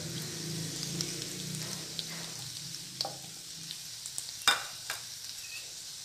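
Spices such as Byadgi chilli, black chilli powder, coriander powder, garam masala, turmeric and asafoetida frying in oil for katachi amti: a soft continuous sizzle over low heat, broken by a few sharp spoon taps and stirring scrapes.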